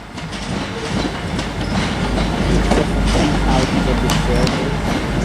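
Class 175 diesel multiple unit 175010, a two-carriage train from Milford Haven, passing at Shrewsbury station: a steady rumble with rhythmic wheel clatter over the rails, close and fairly loud, while people talk nearby.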